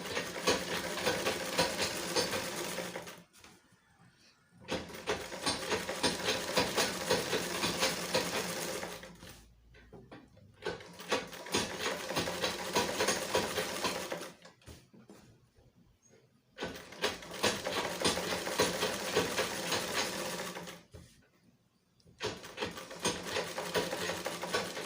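A sewing machine stitches shirring on a smocked top in several sustained bursts of rapid whirring, each lasting a few seconds and separated by short pauses, close and clear with no talk.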